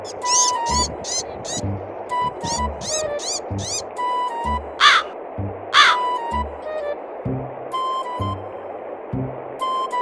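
Repeated loud crow caws ring out in short bursts over a cartoon-style background score, with a few higher bird calls between them and close narration-like voices running throughout.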